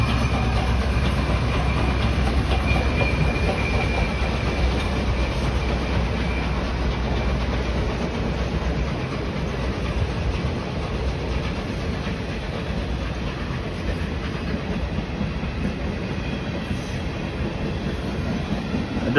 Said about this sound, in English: I didn't actually know they used the steamer loco.